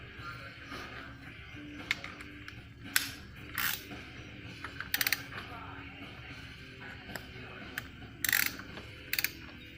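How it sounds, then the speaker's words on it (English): A torque wrench set to 58 foot-pounds clicks and ratchets while the front hub of a Vespa GT200 scooter is tightened, with quiet scattered metallic ticks and a few sharper clicks over a low background. "So I set my torque wrench to 58 foot-pounds."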